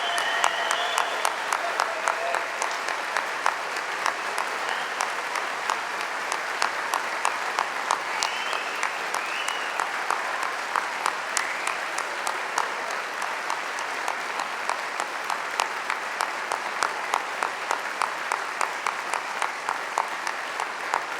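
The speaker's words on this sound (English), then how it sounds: "a huge round of applause." A large audience at a London degree ceremony gives the graduates sustained applause, a dense, steady wash of clapping that carries on for about twenty seconds without letting up, with no talking over it.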